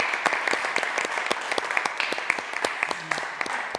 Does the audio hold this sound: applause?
yes